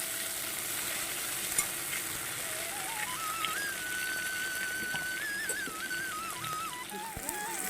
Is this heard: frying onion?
yes